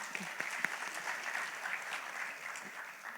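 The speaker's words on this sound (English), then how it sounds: "huge round of applause" An audience at a fireside chat claps in steady, moderately distant applause that fills the whole stretch, with a few sharper individual claps standing out.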